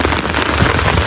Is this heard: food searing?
no